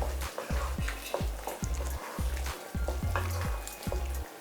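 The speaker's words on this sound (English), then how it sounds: "We stir." Beef stew stirred in a pot with a spoon, giving repeated rhythmic scrapes and knocks over a steady simmering sizzle, close and fairly loud, with no voices.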